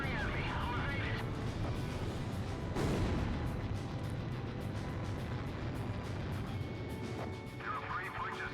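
Aircraft gunfire and combat noise in the Ace Combat game, set in the Belkan War, roars as a dense, continuous barrage with a heavier burst around the middle, under a steady bed of engine and battle din, with voices in the mix.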